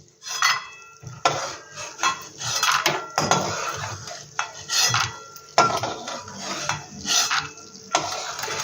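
Metal spoon scraping and clinking against a pan while roasted peanuts are scooped out, a series of close, irregular clatters and scrapes with brief pauses between.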